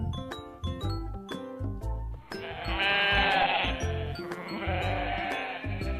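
Sheep bleating in a field, several wavering cries close by, a pitched call sounding repeatedly over a steady flock chorus that grows louder and fuller partway through.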